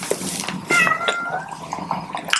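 A house cat meows several times in quick succession in the background, clear and fairly close, with no talk over it.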